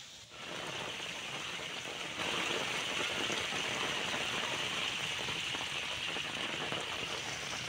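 Steady heavy monsoon rain pours down in a dense, continuous hiss with a rushing, gusty edge from a windstorm, close and fairly loud throughout, with no voices.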